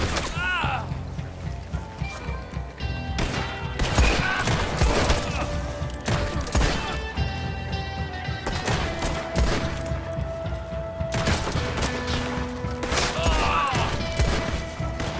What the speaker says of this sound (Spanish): ¿Cuántos disparos hay que pegarle este tío?